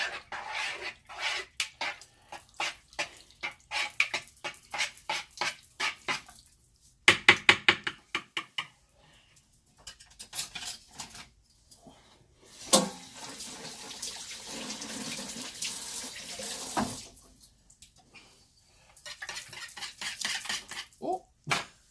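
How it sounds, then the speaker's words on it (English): Chicken and stuffing are stirred in an Instant Pot: a run of quick, close utensil scrapes and clinks against the metal pot, broken by short pauses, with a denser clattering burst partway through. "And now we're gonna mix it."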